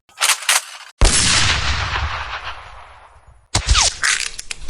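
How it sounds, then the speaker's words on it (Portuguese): Rifle shots fired at Apaches in an old Western shootout, a loud sharp crack followed by a long decaying echo, then another burst of gunfire near the end. "Se quiser um conselho, vamos atirar um de cada vez."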